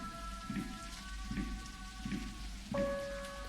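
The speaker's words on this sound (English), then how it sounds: "I could feel the rain coming down." Steady rain pours down in a horror video game, a dense continuous hiss with a low rumble beneath, repeated soft pulses and a faint sustained tone entering near the end, no voices present.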